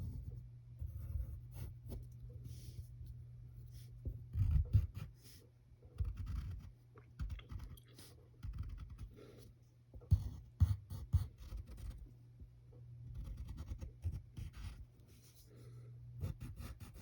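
Pen strokes on paper while drawing the cartoon character Woody, scratchy scribbling lines in short bursts with pauses between, close and soft over a steady low hum, no talking.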